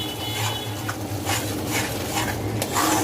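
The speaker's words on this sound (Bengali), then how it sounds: "মশলাটা আরো ভালোভাবে কষিয়ে নিতে হবে যতক্ষণ তেল না ওঠে" Masala with chilli powder, green chillies and sugar fries in a pan for a coconut-milk prawn malaikari. It sizzles steadily while a spoon scrapes and stirs in rhythmic strokes, close and fairly loud, with no talking.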